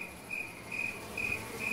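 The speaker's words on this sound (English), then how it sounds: "It sounds like crickets!" Cartoon crickets chirp in short, regular bursts, quiet and fairly far off, with a soft background hiss and no voices.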